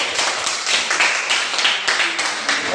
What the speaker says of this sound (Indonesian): Oke, tepuk tangan untuk kelompok 20.